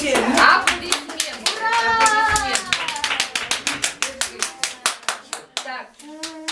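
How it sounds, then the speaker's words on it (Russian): Rhythmic group clapping at a teenage club awards event, a few early scattered claps settling into a steady unison beat of sharp claps, with children's voices and chatter mixed in throughout. "Аплодисменты."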